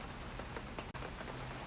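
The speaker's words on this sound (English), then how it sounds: "It's raining now." Steady rain pattering outside, a dense even hiss of drops that holds through the whole stretch at a modest level, with no voices.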